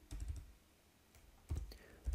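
Typing on a computer keyboard to enter a package name: a few short bursts of close key clicks separated by a quiet pause, with a final flurry at the end.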